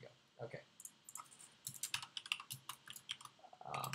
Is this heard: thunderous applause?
no